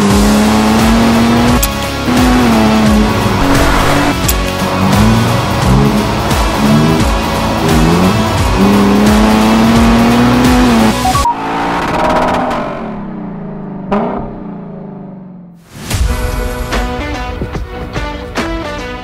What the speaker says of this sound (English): This is the new Ford Bronco Raptor.